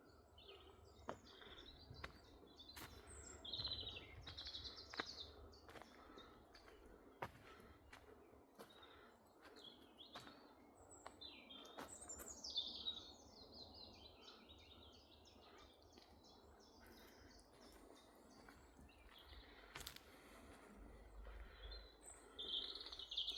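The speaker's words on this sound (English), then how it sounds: "I can hear birds singing." Birds chirp and sing intermittently in open air, their high calls scattered over a faint background with occasional soft rustles.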